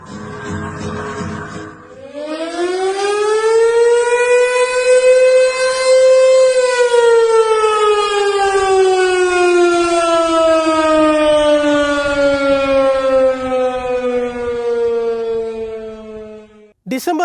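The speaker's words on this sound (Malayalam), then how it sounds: "അവിടെ ബോംബ് സൈറൻ മുഴങ്ങി" A loud air raid siren winds up, holds a long wailing tone, then slowly falls in pitch, sounding alone and dominating the scene.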